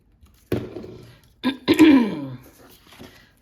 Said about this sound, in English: Still clearing my throat